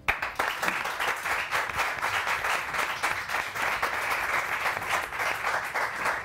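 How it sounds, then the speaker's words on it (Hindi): Studio audience on a morning TV show applauds an introduced couple: a continuous burst of dense, even clapping, loud and close, with no talk over it. "Please put your hands together for both of them."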